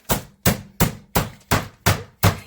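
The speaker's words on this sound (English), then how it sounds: "we're going to pound this to about 1/4 inch" A chicken breast is pounded thin with seven evenly spaced, heavy thuds in quick steady rhythm, each a sharp close impact that dies away before the next strike.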